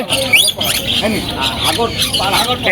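Parrots, including rainbow lorikeets, squawk and chatter in shrill bursts at a busy pet bird market, close by, while people talk over the calls.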